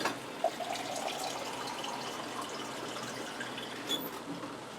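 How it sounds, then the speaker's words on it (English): Water pouring from a tap into an Instant Pot cooker pot while making tomato sauce, a faint steady splashing stream with small bubbling and a few drips. "And I'm going to add some water."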